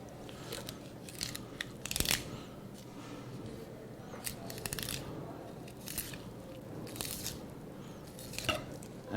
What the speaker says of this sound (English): Cut down around the fin.